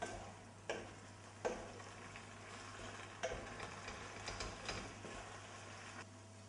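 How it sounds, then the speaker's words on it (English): Penne pasta and black olive sauce stirred in a hot pan over medium-low heat, giving soft scraping and clinking spoon strokes at irregular intervals over a steady low sizzle, close and moderately quiet. "I turn the heat back on medium-low and stir the pasta and sauce together"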